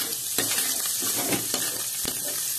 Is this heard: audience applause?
no